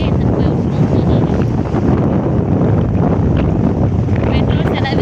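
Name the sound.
wind blowing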